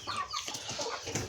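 Large hens cluck quietly nearby in a farmyard, faint scattered clucks and rustling over low background noise, with no talk.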